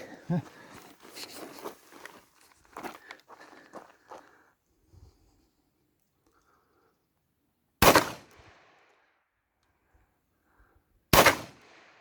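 Two loud, sharp shotgun blasts from an Aksa Crossfire .410 fired outdoors, spaced a few seconds apart with brief echoing tails, after a stretch of people talking and shuffling about.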